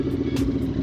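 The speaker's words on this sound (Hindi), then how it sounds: "अपना ब्रांड न्यू एग्जॉस्ट बहुत ही अमेजिंग साउंड कर रहा है यार" An Interceptor 650 motorcycle fitted with a brand-new SS Moto full system exhaust gives a brief, steady, deep throbbing rumble at close range.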